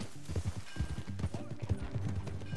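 Horse hooves clip-clopping as a rider sets off in the Red Dead Redemption II video game, a steady quiet trotting rhythm mixed with game music and ambience.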